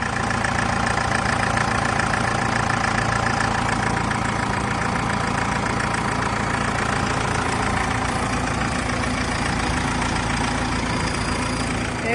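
A 2008 Isuzu D-Max 2.5 diesel pickup engine idles steadily up close, a continuous low rumble with an even, knocking chug and no voices.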